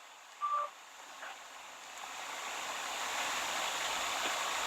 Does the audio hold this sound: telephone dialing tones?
yes